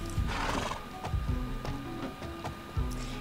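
Horses in the Alicia Online video game whinny and neigh over a steady clip-clop of hooves, with several sharp hoof knocks and a clear, close, game-audio quality throughout.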